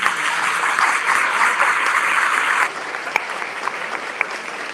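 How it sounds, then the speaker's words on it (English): Audience applause for mayoral candidates at a community forum hosted by the Hamden African American Club, a steady wash of clapping that drops to a thinner patter partway through, with a few sharp individual claps near the end. "Give them a round of applause for coming out."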